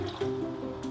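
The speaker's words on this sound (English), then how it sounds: "watch what happens when I actually pour" Alkaline water at pH 9.5 is poured into several containers, a soft burbling fill with faint drips, close and fairly quiet, with no talk.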